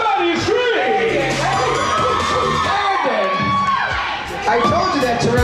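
An audience at an amateur stripper show cheers, whoops and screams loudly, a dense continuous crowd roar with shrill voices rising over it for the whole stretch.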